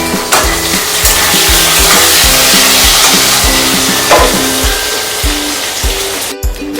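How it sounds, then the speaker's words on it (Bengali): Potatoes sizzle in hot oil in a home kitchen while fish curry with pabda fish is being made. A steady, close hiss of frying runs through the whole stretch, over a repeating low thumping rhythm in the background. "এই আলুগুলো এই যে তেলের মধ্যে ছেড়ে দিলাম"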